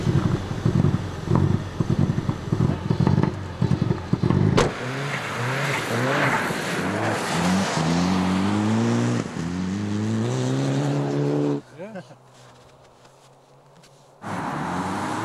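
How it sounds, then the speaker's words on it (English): Rally car driven alone on a frozen lake at a Finnish rally school, loud engine revving and accelerating with gear changes, rising whine sweeping upward, then a sudden drop to quieter idle and wind before the engine returns. "He will do some more runs on the frozen lake, but this time he's alone in the car with Jani Paasonen watching from the outside"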